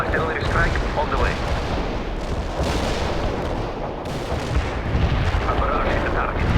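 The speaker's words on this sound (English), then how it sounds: "Artillery strike on the way." An artillery barrage in the World in Conflict game, heavy continuous rumbling blasts and shell impacts that fill the mix at high volume, with voices mixed in.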